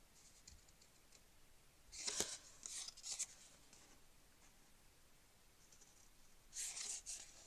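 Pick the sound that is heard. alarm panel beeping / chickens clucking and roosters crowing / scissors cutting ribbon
scissors cutting ribbon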